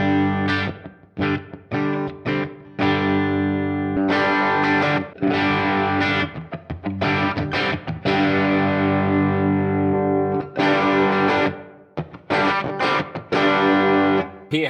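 Electric guitar through a Fractal FM9 modelling a Fender Tweed Champ amp with a Legacy Cab 103 in a room setting, playing loud distorted chords and riffs in bursts with short pauses between phrases.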